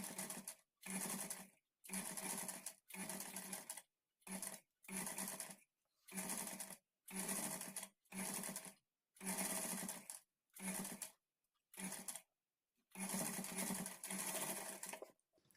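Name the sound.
sewing machine stitching blouse back neck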